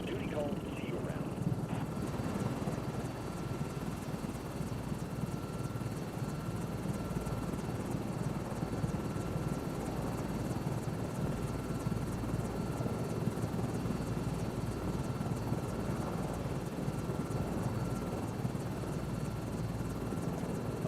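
Helicopter rotor and turbine whine from Microsoft Flight Simulator 2024 during liftoff, a steady loud drone filling the whole stretch without pause.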